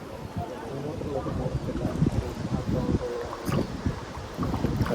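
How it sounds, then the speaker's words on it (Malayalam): Wind buffets the microphone during a boat ride at Amboori, with low rumbling gusts rising and falling while people talk over it. "കാറ്റുണ്ടല്ലേ?"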